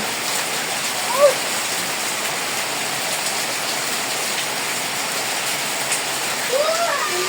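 Heavy rain pours steadily in a dense, even hiss, with a faint voice or two briefly audible in the background.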